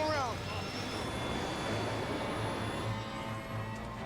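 Airliner jet engine spooling up toward full thrust during a go-around, a loud sustained roar with a rising whine at the start, while a voice talks over it.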